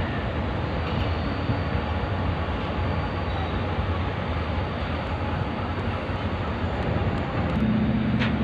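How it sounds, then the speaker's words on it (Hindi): A Pakistan Railways train rake pulls away from platform 1 at a station, giving a steady broad rumble of moving wagons that holds throughout, with a brief tonal hum rising near the end. "ट्रेन मूव हो रही है प्लेटफॉर्म नंबर 1 से।"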